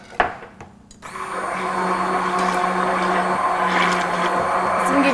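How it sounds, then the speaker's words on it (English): An immersion blender mixes mayonnaise and hot sauce, starting after a few clunks and then whirring as a loud, steady, close motor drone for several seconds. "Trusty immersion blender."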